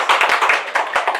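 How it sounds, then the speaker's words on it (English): An audience claps at a school induction ceremony, a dense burst of applause with sharp individual hand claps standing out, fairly close and steady throughout. "we applaud."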